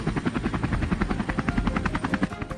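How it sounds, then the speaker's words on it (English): A helicopter's rotor thumps rapidly and evenly with a loud engine whine, close and steady throughout. "helicopter roars into the air"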